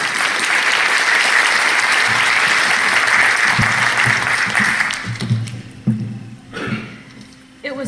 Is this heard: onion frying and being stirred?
no